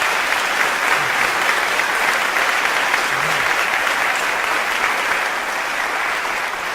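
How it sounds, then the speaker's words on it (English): Sustained, dense applause from a large event crowd, steady and loud throughout without a break, with no speech over it. "Yeah, you can clap for that."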